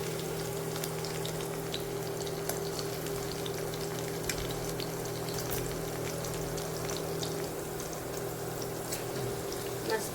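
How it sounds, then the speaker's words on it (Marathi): Green chilies fry in hot oil in a pan on an induction cooktop, giving a steady, close crackling sizzle with scattered sharp pops and a faint background hum, with no speech over it. "मिरच्या मस्त अशा थोड्याशा परतून घेते."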